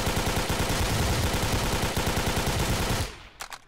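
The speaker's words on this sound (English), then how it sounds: "shooting them with an SMG, or an assault rifle, should I say" Sustained rapid automatic fire from an SMG or assault rifle in Garry's Mod, a loud unbroken rattle of shots that cuts off abruptly, leaving a few faint clicks and knocks.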